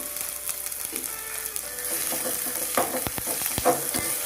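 Chopped onion fries in a pan with garlic, sizzling steadily while a few sharp clinks and scrapes of stirring cut through near the end.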